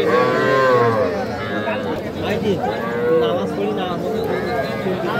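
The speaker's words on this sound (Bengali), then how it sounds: "এটা বকনা বাছুর" A heifer calf at a cattle market lets out loud, drawn-out moos close by, heard over nearby voices talking and the general bustle of the crowd.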